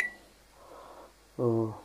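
A short electronic beep as a faulty Samsung MG23F302TAS microwave that won't switch on is plugged in, followed by quiet handling noise and then a brief buzzy hum near the end.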